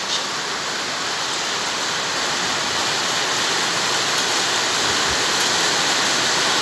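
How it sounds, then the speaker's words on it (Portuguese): Heavy, continuous rain falls outdoors, a loud, steady hiss with no breaks and no voices. "muita chuva, sem parar, 3 dias já que está chovendo na minha cidade."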